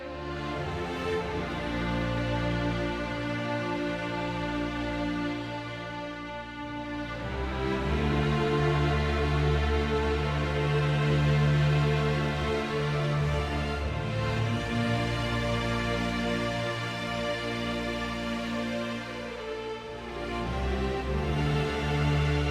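Warm orchestral strings from a track, sustained and swelling with rich reverb, holding long layered chords that rise and fall in level over the passage, alone with no voices.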